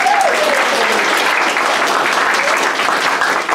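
Wedding guests clap together in a loud, sustained burst of applause close by, with a voice briefly audible at the start.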